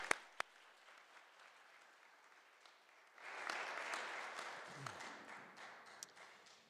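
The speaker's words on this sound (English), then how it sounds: "let's actually give them a round of applause for what they've done" Quiet room tone with a couple of sharp taps gives way to audience applause at an academic lecture event, the clapping swelling in around the midpoint and continuing at moderate, somewhat distant volume.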